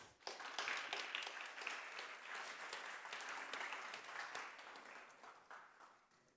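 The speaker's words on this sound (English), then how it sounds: "Please give her a warm applause." Conference audience applause fills a hall with steady, dense clapping from many people, heard from a moderate distance and tapering off at the end.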